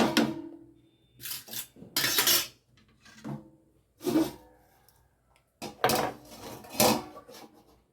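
Pepper chicken masala is stirred in a pot, with several scraping, clattering bursts of a utensil against metal separated by short pauses, close and fairly loud, ending with the clunk of a lid being set on.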